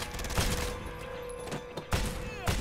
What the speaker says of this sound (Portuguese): Levou uns 6 tiros, acho.